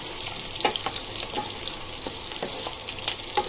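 Cashews and almonds frying in a pan while cooking Muradabadi chicken, a dense, continuous close sizzle with occasional crackles and pops and no talk.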